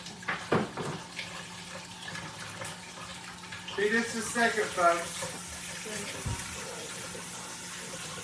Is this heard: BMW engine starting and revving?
no